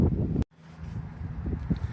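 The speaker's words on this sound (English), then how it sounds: "it is windy out here" Wind blowing outdoors, rumbling and buffeting the microphone in steady low gusts, with a brief dropout near the start before the blustery noise resumes.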